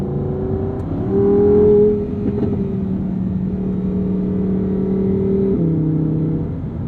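A Lamborghini Huracan Sterrato engine drones nearby, briefly swelling louder, then settling into a steady hum as the revs fall off on lift-off overrun and the pitch shifts.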